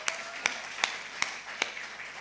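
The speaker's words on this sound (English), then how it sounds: "Let's all really applaud." Applause for Ruth Stewart at the opening session of a conference, heard as sparse, evenly spaced single claps, about five in a slow steady rhythm, moderately near over a quiet room.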